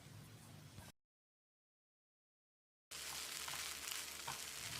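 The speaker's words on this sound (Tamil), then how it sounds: "இப்போ இதில் 2 டேபிள் ஸ்பூன் அளவுக்கு முந்திரியை சேர்த்து ஃப்ரை பண்ணிக்கலாம்." Cashews frying in masala for chicken ghee roast give a steady broadband sizzle, loud and close, cut off by a two-second dropout of silence before resuming with a busier, denser crackle.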